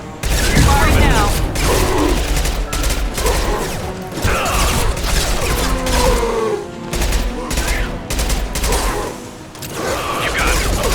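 Sustained Mass Effect 2 combat gunfire, loud rapid bursts and repeated shots with occasional booms, rolling on almost without break while squad voices call out over the fighting.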